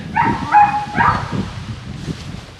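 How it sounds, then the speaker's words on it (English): A dog nearby lets out a few short, high yips and barks mixed with a slight whine, then settles into quieter background noise. "See, this is their doggy."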